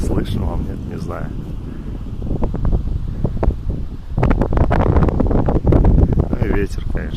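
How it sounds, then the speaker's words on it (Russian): Strong, steady wind roars across a high mountain peak, Pik Okhotnichiy, in cold early morning, buffeting the microphone with continuous low rumble and gusts that swell louder toward the end while someone talks over it. "Дует здесь очень сильный ветер."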